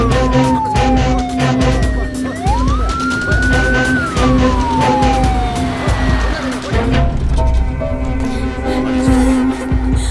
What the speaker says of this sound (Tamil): அண்ணா ஆம்புலன்ஸ் கிளம்பிச்சுண்ணே.